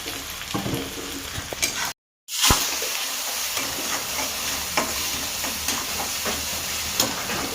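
Onions with salt fry and sizzle in a pan during a dried-shrimp sukat recipe. A loud, steady hiss continues with stirring scrapes, except for one brief dropout.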